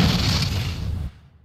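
A single flare gun shot in Alan Wake bursts as a loud, dense boom that rumbles for about a second and then cuts off abruptly, alone with no speech.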